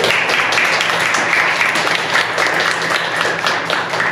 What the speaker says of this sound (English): I think it would be great if everyone could give a round of applause to Paul.